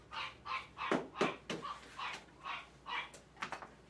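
A dog, a Westie or Shih Tzu, barking repeatedly during a grooming session, about a dozen sharp yaps in an uneven rhythm, close and fairly loud, with no talking.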